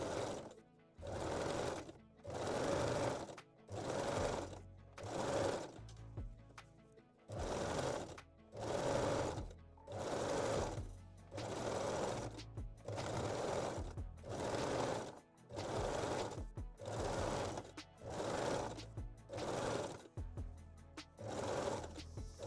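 A sewing machine stitches picot elastic onto the leg opening of a high-waist thong, running in repeated bursts of about a second or two each with short pauses between, close and clear with no talking.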